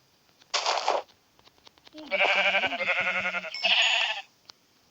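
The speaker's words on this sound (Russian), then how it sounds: "Овца." Sheep bleating in a video game, a short burst followed by a longer, wavering bleat with a clattering sound underneath, then silence.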